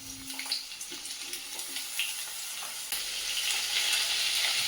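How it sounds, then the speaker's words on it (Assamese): Pointed gourd and potato pieces frying in mustard oil in a pan, a close, bright hissing sizzle that swells louder toward the end, with scattered small crackles and no talking. "ব'লক প্ৰথমতে পটলখিনি ফ্ৰাই কৰি লওঁ।"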